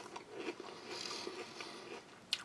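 Someone bites and chews a peach-flavoured potato crisp, quiet close crunches and munching spread over a couple of seconds with a sharper crack at the end.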